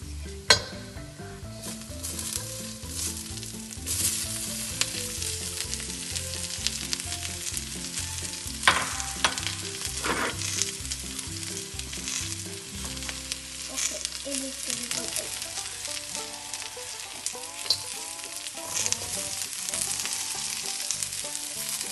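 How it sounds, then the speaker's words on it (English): Vegetables being stir-fried in a hot pan for Indo-Chinese Schezwan chicken, a loud continuous sizzle with repeated tossing and stirring scrapes that grows busier partway through. "Now I'm gonna add all the veggies and stir fry."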